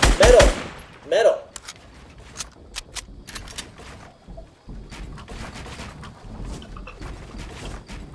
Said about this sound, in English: Get your other weapon out and shoot him!